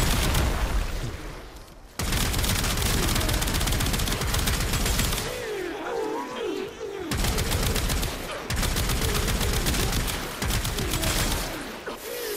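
Rapid alt-fire bursts from the Bubonico weapon in the video game Warframe, loud dense volleys of gunfire with brief gaps between strings of shots and some whooshing projectile sounds.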